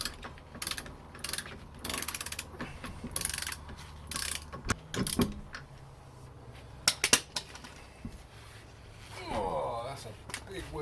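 Removing 18-inch Porsche wheels from a VW T4 camper van: irregular metallic clanks, ratcheting clicks and knocks up close, with scattered sharp bangs and a short rasping stretch near the end, voices occasionally mixed in.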